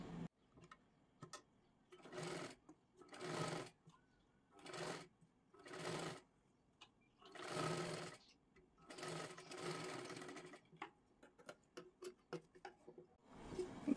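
Sewing machine stitching a 38-size princess-cut blouse, running in about eight short separate bursts of rapid mechanical whirring with brief pauses between, close and fairly quiet, no voices.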